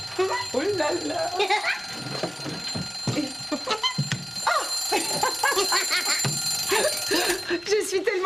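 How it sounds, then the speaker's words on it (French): An alarm clock rings in a lively children's show setting, its bright, steady tones sounding through most of the clip beneath animated talk from characters. "C'est mon réveil matin."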